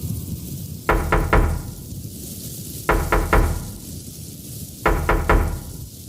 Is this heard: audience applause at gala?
no